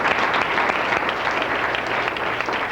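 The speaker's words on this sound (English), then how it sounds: "Yes, applause. It's great." An audience at a 2003 chamber of commerce awards banquet applauds continuously, a full, even wash of many hands clapping, fairly close, with no one speaking.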